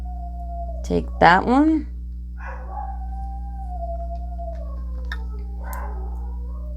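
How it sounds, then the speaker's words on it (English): A pet dog howls in a long, steady, wavering note from across the room, held over several seconds, after a brief burst of nearby speech and a constant low hum. "oh, my dog's howling"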